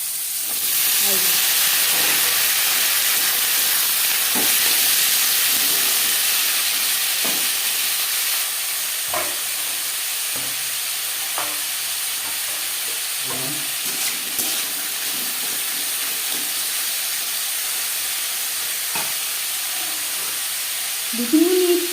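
Potatoes sizzle and hiss steadily in hot oil in a wok on a gas flame for egg and potato bhujia, with faint clinks of stirring and a brief louder sputter near the end.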